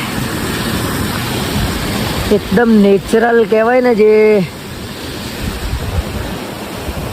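Water runs steadily near a paragliding site on a tree-covered hillside, a constant broadband rush mixed with wind, while someone speaks briefly over it.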